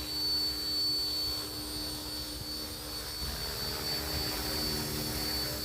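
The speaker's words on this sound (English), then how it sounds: "Having a heli this big is such a nerve-wracking thing." An OMPHobby RC helicopter hovering nearby, with a loud, continuous whirring rotor drone and a steady high motor whine throughout and no talk.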